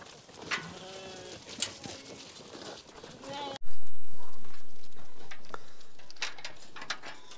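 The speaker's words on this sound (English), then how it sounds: "ready to shear some sheep" Wild Irish hill sheep bleat several times amid a flock, with short calls up close over farmyard background, while a person talks in the first half.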